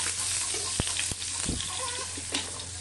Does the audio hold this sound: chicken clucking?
no